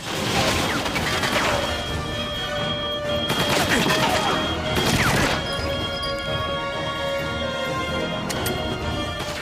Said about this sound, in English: I'm just shooting them in the head a whole bunch.